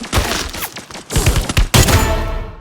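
Rapid bursts of gunfire in the Free Fire battle game, several loud clustered volleys with dense thumping reports and brief gaps, close and filling the whole stretch with no talk over it.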